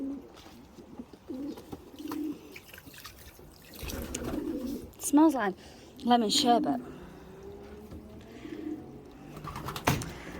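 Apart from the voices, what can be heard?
pigeons cooing in the loft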